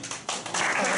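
A live audience claps to welcome a speaker at a two-minute self-introduction meetup in Taichung, a short, dense patter of hands that swells louder in the second half.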